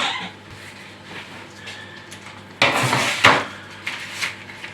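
Sliced mushrooms set down on a metal baking tray for pizza, a few sharp clattering contacts and scrapes close by, loudest in two bursts midway, with quiet handling between.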